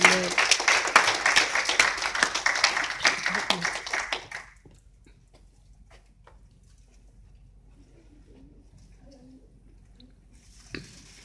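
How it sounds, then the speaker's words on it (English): A church congregation claps loudly for about four seconds, then the sound cuts off to near silence with a single faint knock near the end. "Can we give a clap of God to Jesus"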